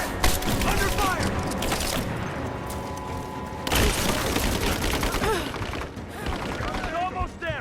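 Video-game firefight in Rise of the Tomb Raider, with rapid bursts of automatic gunfire and sharp shots layered over explosions and shouting soldiers, loud and continuous throughout.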